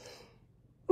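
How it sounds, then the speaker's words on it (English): A single short cough bursts out at the very end, close and abrupt, after a soft breathy exhale. "I can't cough and think at the same time"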